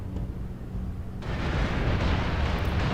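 A heavy, rumbling blast in MechWarrior Online as an incoming missile strikes, a low roar swelling suddenly partway through and staying loud to the end.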